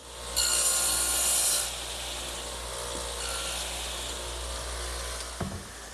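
A radial arm saw plows out material for a bed tenon in wood: a loud, steady buzzing cut in the first seconds, then a lower continuous whir as the blade keeps running, ending with a brief knock.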